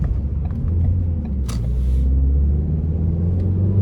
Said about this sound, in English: let's go ahead and take this 2016 Ford Focus SE out on the road for a test drive